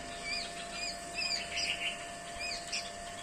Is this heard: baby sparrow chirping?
yes